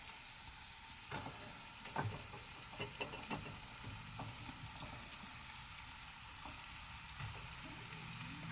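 Pieces of patra dhokla tumble into a hot pan and fry with a close, steady sizzle, punctuated by several soft knocks and stirring clatters.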